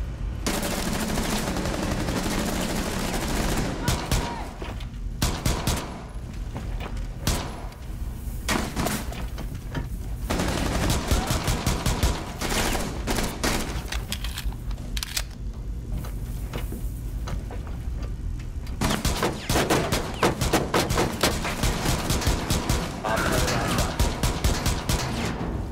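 Gunfire in the video game Rainbow Six Siege during a team deathmatch hostage match on the Yacht map, with loud bursts of automatic and single shots, bangs and crashes throughout and a brief player voice in between.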